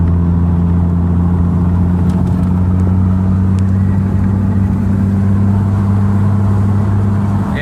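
A 1989 Toyota Mark 2 GT twin turbo drives along a bumpy road, its engine humming steadily and loudly with constant road and wind noise and a few faint clicks.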